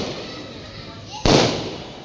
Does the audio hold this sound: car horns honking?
no